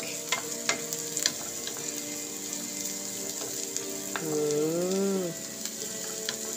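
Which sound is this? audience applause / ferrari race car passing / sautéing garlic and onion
sautéing garlic and onion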